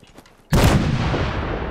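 Gunfire from allies in Fallout 4 during a battle at the Castle bursts in suddenly after a quiet moment and becomes a loud, sustained roar of overlapping shots and blasts.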